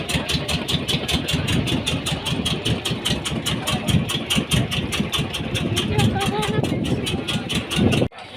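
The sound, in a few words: trawler boat engine idling at the dock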